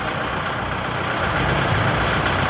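A used tractor engine running steadily at idle, a continuous, fairly loud mechanical drone with a low rumble and no pauses.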